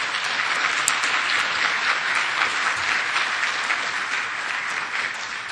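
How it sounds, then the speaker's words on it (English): Audience applause at an agriculture summit: a dense, even wash of clapping from a large seated crowd, steady and moderately loud throughout with no voices standing out. "let's give them a round of applause."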